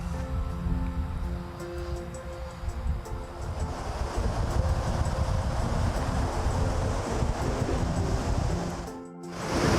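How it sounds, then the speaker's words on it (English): Ocean waves roll onto the beach at the Jersey Shore in a steady, loud wash of surf with wind noise on the microphone, continuous for the whole stretch with a brief dip near the end. "here we are on the beach, on the Jersey Shore"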